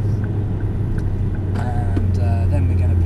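A Ford Focus RS at Prestwold drives into the pit lane in third gear, its engine a steady low in-cabin drone with a person talking over it.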